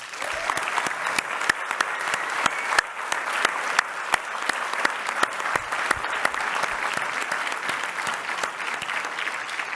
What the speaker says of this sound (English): let's give them all a resounding round of applause